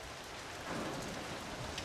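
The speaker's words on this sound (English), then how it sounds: "we're getting a little rain up here, flooding. See with all the rain and wind" Steady rain falls with gusting wind during a stormy, flooding downpour, a continuous soft hiss of drops on surfaces that swells slightly partway through and never lets up.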